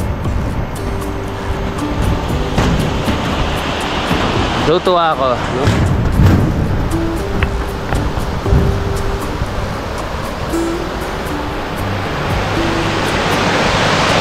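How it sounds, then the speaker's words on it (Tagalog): A river in Runruno, Quezon, Nueva Vizcaya flows with a constant loud rushing wash. Someone speaks briefly over it, and scattered clicks and knocks break through the water noise. "Nakaka-relax yung tunog ng daloy ng tubig."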